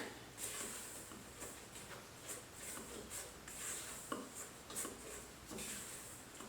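Dry ingredients for vegan zucchini brownies are mixed in a bowl, making faint, repeated scraping and light clinking strokes in an irregular rhythm, quiet and close.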